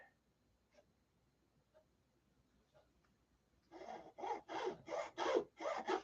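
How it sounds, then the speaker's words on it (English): A plywood motor mount for a Vector 40 model plane sanded by hand: after faint ticks, six close, regular rasping strokes, each about half a second long, in a steady back-and-forth rhythm. "we'll have to sand to fit"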